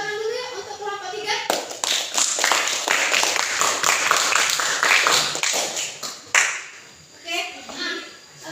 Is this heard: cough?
no